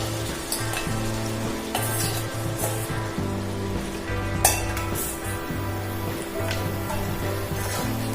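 Mutton pieces sizzle loudly in a pan for Nagpur-style Saoji mutton curry, a steady crackling fry with occasional stirring clinks over a continuous hum.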